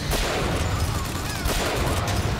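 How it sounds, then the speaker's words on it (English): Continuous loud gunfire from enemies in the video game Bioshock Infinite, dense overlapping shots and bursts over a steady wall of battle noise with no pause. "there's guys behind there shooting"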